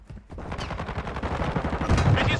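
Heavy gunfire in the zombie shooter World War Z: a continuous stream of rapid shots, loud and close, running nearly the whole time after a brief quiet start.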